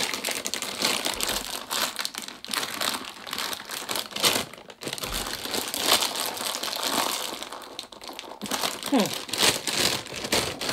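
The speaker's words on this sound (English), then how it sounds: "when you open them, they come in a foil bag like that." A foil bag of Orton Bros. cookie buttons crinkles and rustles close by while being opened and handled, with steady crackling throughout and a few louder crunches.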